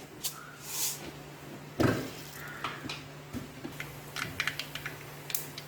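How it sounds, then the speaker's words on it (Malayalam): Mustard seeds splutter in hot coconut oil for a bottle gourd curry, producing a string of quick, sharp pops and crackles, fairly soft and close, with a louder burst near the start. "നമ്മുടെ എണ്ണ ചൂടായിട്ടുണ്ട്. നമുക്കിനി കടുക് ഇട്ട് കൊടുക്കാം."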